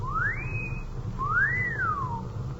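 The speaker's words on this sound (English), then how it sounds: "The nerve of that kid whistling at girls" A wolf whistle aimed at girls from a kid near Hollywood and Vine: two clear rising-and-falling whistled notes, fairly close, over a steady low traffic rumble, with no talking.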